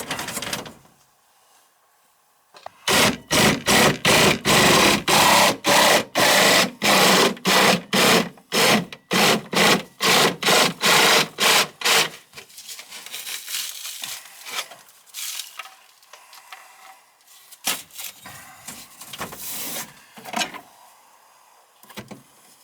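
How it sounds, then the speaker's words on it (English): A saw cuts sheetrock along a ceiling beam in a series of loud, rapid, rhythmic rasping strokes for several seconds, then fades into scattered scraping and crumbling noises before going quiet. "it should be safe to cut along the beam there and pop that piece off"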